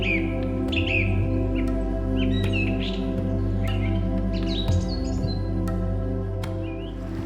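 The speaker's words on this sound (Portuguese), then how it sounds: "onde é possível ouvir pássaros e observar a vida local em detalhes." Birds chirping and calling along a forest trail near an old well with small cascades in Portugal, bright short tweets scattered throughout over a loud steady low hum.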